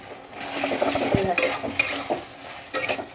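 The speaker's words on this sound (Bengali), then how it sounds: "যতক্ষণ না মাছটা পুরো ভাজা ভাজা হয়ে তেল ছাড়বে ততক্ষণ কিন্তু মাছটা আমি নামাবো না ভেজেই যাব" Fish pieces stir-fried with chillies and coriander in oil until crisp, a close, loud sizzle broken by repeated scraping and clanking of a utensil against the pan, with bright bursts of spatter.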